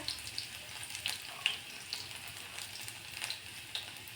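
Mustard seeds and finely chopped garlic cloves frying in hot oil make a steady, faint sizzle, with small sharp pops and crackles scattered throughout.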